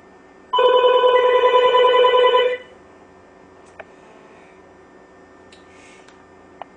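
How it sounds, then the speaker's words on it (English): An unlocked iPhone on T-Mobile places a call, giving a loud, close electronic ringing tone for about two seconds, then quiet room noise with a few faint clicks. "I'll just here have it call my house"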